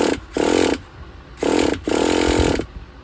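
A Traxxas Nitro Slash 3.3 nitro engine with a swapped carburetor fires in short loud buzzing bursts, three rough high-pitched runs that cut out between them, close up with no talk.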